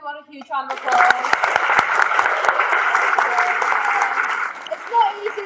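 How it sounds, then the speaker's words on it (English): Audience applauding club election candidates at a dance club meeting, steady clapping that builds quickly and carries on for several seconds, close and fairly loud. "give everyone a huge round of applause"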